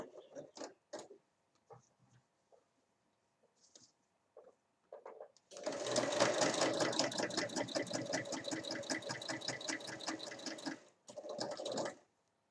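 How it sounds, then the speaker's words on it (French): A sewing machine topstitches fabric along a zipper while making a square pouch with two large handles, stitching in a steady rapid whir for several seconds, pausing briefly, then running again after a few scattered handling clicks. "je vais venir faire une surpiqûre ici pour bien aplatir mon tissu et éviter qu'il vienne se coincer dans la fermeture à glissière"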